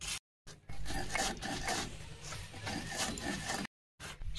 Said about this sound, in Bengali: আদা রসুন কিন্তু আমি একসঙ্গে বেটে নিচ্ছি।